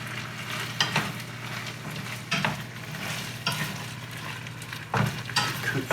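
Venison stir fry sizzling steadily in a hot pan, with a constant frying hiss and occasional louder bursts as the meat is stirred, close and loud, with no talking.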